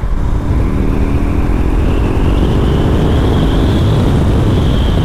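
BMW R18 Bagger motorcycle accelerating in sixth gear, loud steady engine drone with a gradually rising pitch and heavy low rumble, mixed with wind noise, continuous throughout.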